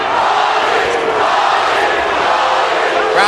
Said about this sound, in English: Crowd chanting, Paulie, Paulie.